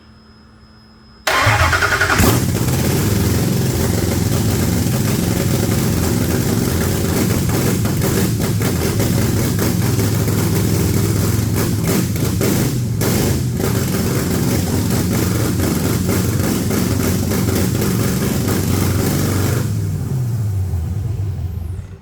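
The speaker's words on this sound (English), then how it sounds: "The engine successfully started on the first try." Dodge Challenger Hellcat V8 in a previously burnt car cranks and fires on the first try, then settles into a loud, steady, close rumbling idle for about twenty seconds with no talk.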